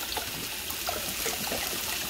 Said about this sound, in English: 32 ounces of chicken broth into it.